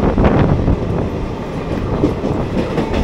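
A train on the Kolkata to NJP line runs toward Bandel Junction with a steady loud rumble and rattling clatter of carriages heard from inside, continuous and unbroken, with no voices.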